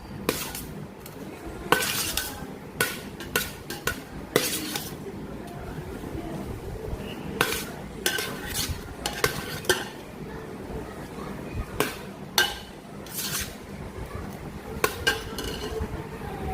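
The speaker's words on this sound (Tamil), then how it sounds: "இப்போது சாப்பாடு கிளறலாம்" A spoon stirs lemon rice in a metal vessel, giving repeated clinks and scrapes in irregular bursts, with quiet background noise between strokes.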